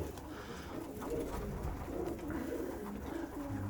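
Pigeons cooing in a low, continuous murmur, several birds overlapping at moderate distance with a steady background hum.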